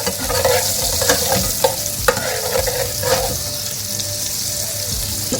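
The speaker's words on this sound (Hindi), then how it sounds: "कभी ब्राउन हो जाए इसमें हम डालेंगे कड़ी मिक्सचर।" Kadhi mixture poured and stirred into hot oil left over from frying pakoras, giving a steady loud sizzle with repeated scraping stir strokes in the pan throughout, no voices.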